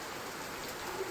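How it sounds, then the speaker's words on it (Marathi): Rain falls steadily in a monsoon downpour, a soft, even hiss of drops that is faint, unbroken and without voices. "पाऊस पडताना केवढा सुंदर दिसतोय भाई"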